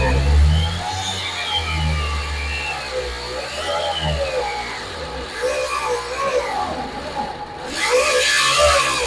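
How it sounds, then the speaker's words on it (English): An iron grinder cuts through the ceiling of a food truck, giving a continuous, wavering whine whose pitch rises and falls as the blade bites the metal, fairly loud and close with brief surges. "Let me see if I can't make one all the way through with the iron grinder."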